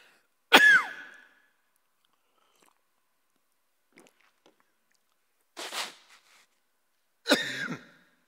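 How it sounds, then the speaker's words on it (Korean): A lecturer coughs sharply once, then after a quiet pause makes a couple more throat sounds, a swallow or sip of water and a second cough, all close and alone without speech. "제가 좀 기침이 나서 조금 물을 마시겠습니다."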